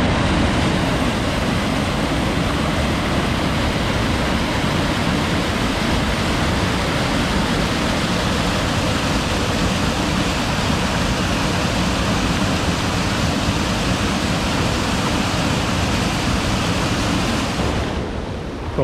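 Rushing water of a Portuguese mountain river surging around legs wading across in wellies, a loud, steady broadband roar filling the whole stretch with no pauses.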